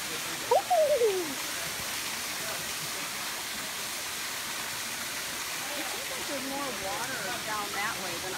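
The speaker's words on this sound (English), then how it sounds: "the river's the river's down there" A river flowing at Hanging Rock State Park, a steady broadband rush that fills the whole stretch. A bird calls briefly near the start, and faint voices murmur beneath the water toward the end.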